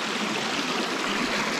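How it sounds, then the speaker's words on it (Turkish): A flowing stream runs steadily nearby, a continuous close rushing and trickling wash with no talk. "Derenin sesi zaten güzel olmuş mu?"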